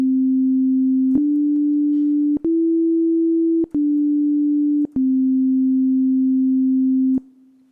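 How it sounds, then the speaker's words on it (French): Default sine wave tone from the GarageBand sampler: a pure, steady electronic tone held for several seconds, stepping slightly up and down in pitch with brief clicks and gaps between notes, alone with no voices. "le son par défaut de l'échantillonneur est une onde sinusoïdale, le son qui est à la base des synthétiseurs"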